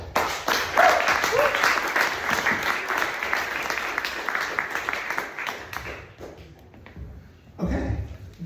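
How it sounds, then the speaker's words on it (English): A crowd at a hackathon demo session applauds, loud sustained clapping that thins out toward the end, then a short renewed burst of claps. "Round of applause."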